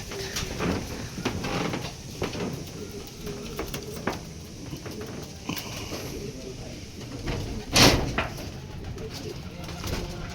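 Young racing pigeons arriving at a loft during derby race training, soft cooing mixed with wing flaps and rustling, a sharp bang near the end, and a voice speaking intermittently.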